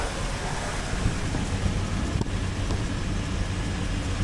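Steady loud rumbling and grinding from the blown-apart transfer case of a 2002 Dodge Ram 2500 with a 5.9L engine while driving, a continuous rubbing roar with no talk.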